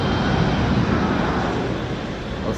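A large jet airplane, its tail bigger than a building, roars past nearby with a loud, steady, broad rumbling wash that fades slightly toward the end, with no speech.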